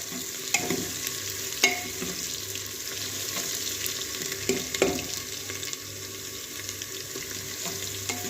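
Ginger and cumin seeds frying in hot oil in a pan, a steady close sizzle broken by several scraping stirs with a spoon, with no talking.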